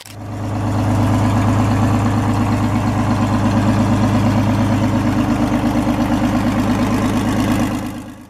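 Detroit Diesel 6-71 inline-six diesel engine, introduced in 1938, idling with a loud, steady, rapid low rumble that fades in at the start and tapers off at the end.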